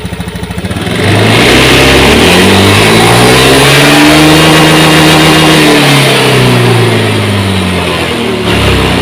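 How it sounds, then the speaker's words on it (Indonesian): A motorcycle engine with a stuttering throttle revs up hard from idle and holds a loud, rising and falling drone for several seconds, close by, with no voices over it. "sekarang saya tarik gas"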